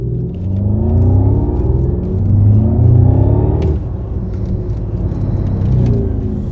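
Porsche Cayenne Turbo driving in Sport Plus mode, a loud, deep engine rumble with rising and falling revs as the car accelerates, no talk.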